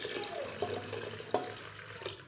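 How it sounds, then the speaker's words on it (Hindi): Hot water poured from a container into a pot of fried beef, a steady liquid splash and gurgle running throughout with a couple of brief sharper clinks, close by in a home kitchen. "अब इसके अंदर हम डालेंगे पानी।"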